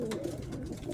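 A racing pigeon cock coos softly inside a loft, a short, low, throaty warble close by and fairly quiet.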